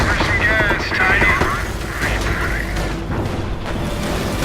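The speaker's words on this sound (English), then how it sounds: "Uh-oh, anti-tank from two different sides." Anti-tank guns firing from two sides in a Company of Heroes Normandy battle at Montebourg, with booming shots and mechanical clatter. Heavy layered battle noise with a tonal whine early on.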